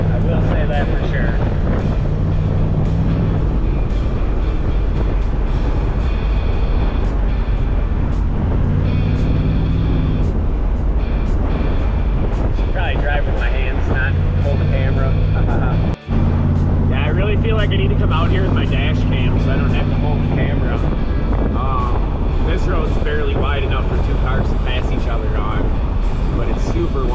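A Chevrolet Camaro cruising on curvy, hilly Wisconsin roads, its engine droning and shifting pitch through gear changes under heavy wind buffeting, with a brief dropout midway.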